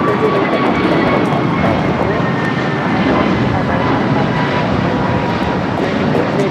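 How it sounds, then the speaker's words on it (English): A Boeing 787-9 jet takes off from LAX on the north-side runway, its engines giving a steady, loud broadband roar throughout with faint background chatter. "Air Premier taking off there on the north side."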